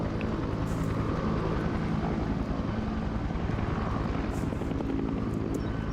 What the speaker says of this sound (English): They started up this helicopter here.